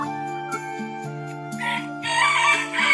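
Chickens and a rooster on a free-range farm: drawn-out tonal crowing calls repeat in close succession, loud and near, with clucking building toward the end.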